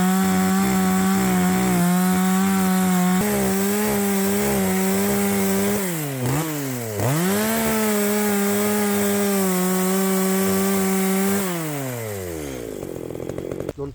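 A chainsaw with a dull chain cuts into a wooden log close by, its engine whining and bogging down as the bar bites in, then revving back up and idling lower near the end.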